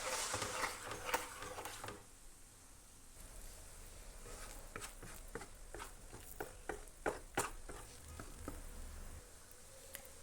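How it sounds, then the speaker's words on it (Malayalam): Tender coconut halwa being stirred with ghee in a pan, heard as soft sticky squishing and scraping with irregular tapping clicks of the spoon against the pan, close and fairly quiet, with no talking. "ഇനി ഇത് പാനിൽ നിന്ന് വിട്ട് വരുന്നത് വരെ ഒന്ന് ഇളക്കി കൊടുത്തുകൊണ്ടിരിക്കുക."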